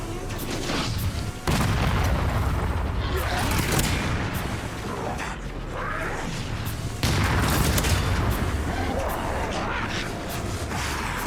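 Missile launcher firing and exploding in the Resident Evil Requiem video game, heavy repeated booms and rumbling blasts under a continuous game mix, with a voice talking over it.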